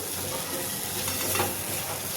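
A spoon stirs tomato ketchup into a pav snack in a hot pan while it sizzles and fries steadily throughout, with no one talking.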